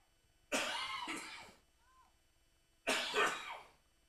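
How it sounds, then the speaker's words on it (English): Two harsh bursts of coughing in a press box at a women's soccer match, each a rough cluster of coughs, close and fairly loud with a short quiet gap between them. "he has a coughing fit here in the press box"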